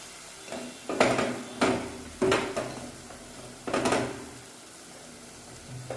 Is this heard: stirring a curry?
yes